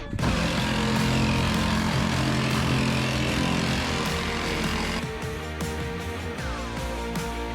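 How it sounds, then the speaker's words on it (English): A reciprocating saw fitted with a metal-cutting blade saws through a metal roof, making a loud, continuous, rattling buzz that drops slightly in intensity partway through. "we've got like a reciprocating saw, so I've put a metal blade on that, and yeah, it's like way faster"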